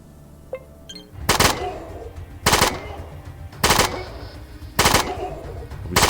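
Submachine gun in ATOM RPG, a homemade weapon, firing four loud three-round bursts at steady intervals, each a tight cluster of sharp cracks, with a faint click before the first.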